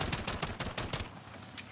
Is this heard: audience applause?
no